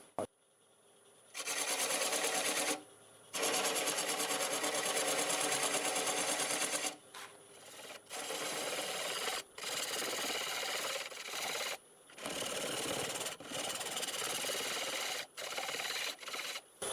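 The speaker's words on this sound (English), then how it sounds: "Doing about 500 RPM with a 1/2 inch bowl gouge." A wood lathe spins a black walnut bowl at about 500 RPM while a half-inch bowl gouge cuts it. The steady, loud scraping comes in long stretches with short pauses between passes, close up and without talk.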